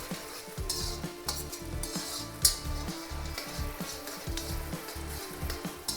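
Finely chopped tomatoes fry in hot oil for Ballari neer uppittu, giving a steady close sizzle broken by scraping and clinking as the pan is stirred throughout.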